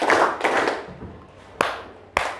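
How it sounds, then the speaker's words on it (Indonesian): Two sharp, distinct hand claps land about half a second apart near the end, each standing out clearly after a stretch of fainter, noisier rustling. "Tepuk tangan dua kali"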